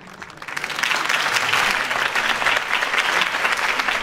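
Loud, dense applause from a large crowd in the video game Batman: A Telltale Story fills the clip, swelling quickly and holding steady throughout.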